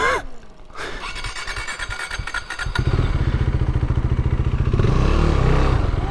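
A KTM Duke 390 motorcycle cranks for a couple of seconds after a stall with a rapid, rattling starter whir, then catches and settles into a loud, steady single-cylinder idle close by.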